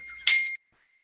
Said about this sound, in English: Was that the silence bell?